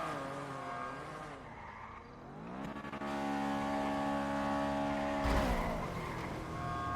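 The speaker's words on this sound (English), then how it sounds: "I'm pretty sure Ratchet is in that car over there crashing into other cars" A car in the video game GTA V skids and crashes into other cars: a steady engine drone with shifting pitch, rising revs, and a loud broadband crash burst near the end.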